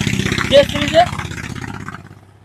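A Royal Enfield J-series motorcycle engine idling in a steady low, pulsing thump that fades toward the end, close by, with people talking over it.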